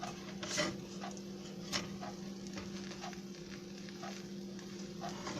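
A pancake cooks in a pan after being flipped, giving a soft, steady sizzle with a faint hum beneath and a couple of brief scraping clicks, with no talking.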